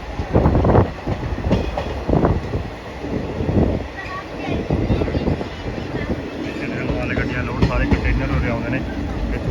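A passenger train pulls away from Qila Raipur, its steady rolling rumble and rail clatter close and loud for the whole stretch, with indistinct voices mixed into the noise.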